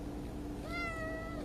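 A sleepy young cat gives a single soft, drawn-out meow partway through, quiet and close against a faint steady background hum.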